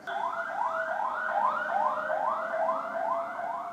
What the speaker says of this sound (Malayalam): ഇടയ്ക്ക് ആംബുലൻസ് പോകുന്നത് നിങ്ങൾ ശ്രദ്ധിക്കുന്നുണ്ടെന്ന് ഞാൻ വിചാരിക്കുന്നു.